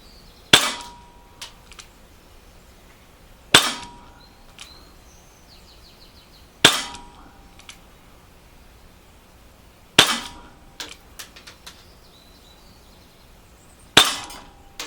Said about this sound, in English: Let's see if we can get a nice tight group with this gun.